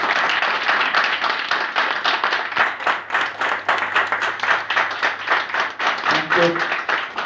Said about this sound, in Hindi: मैं चाहूँगा मेरी टीम के लिए एक जोरदार तालियां होनी चाहिए।